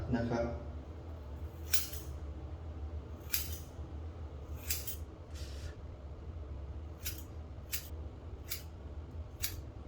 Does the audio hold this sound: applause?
no